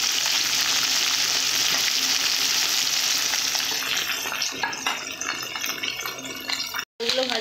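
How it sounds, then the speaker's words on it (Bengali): Fish frying a few pieces at a time in a pan of hot oil, a steady broad sizzle that runs close and loud throughout, easing slightly near the end with a brief break. "অল্প অল্প করে মাছ দিয়ে ভেজে নেব।"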